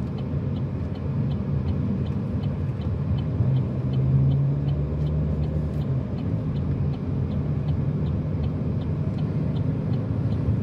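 Road traffic rumbles steadily along a busier road beside a race course, a continuous low drone of passing vehicles with a heavier engine swelling briefly near the middle and a faint regular ticking throughout.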